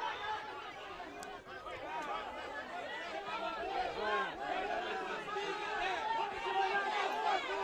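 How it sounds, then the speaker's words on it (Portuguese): Fans of Manoel Vitorino at a local Copa Intervale football match against Boa Nova shout and murmur together, a steady nearby babble of many voices rising and falling throughout. "A torcida agitando aqui de Manuel Turino, dizendo que não foi nada, pedindo pro jogador levantar."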